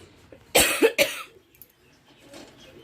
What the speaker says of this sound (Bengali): প্রচুর কাশি হয়ে গেছে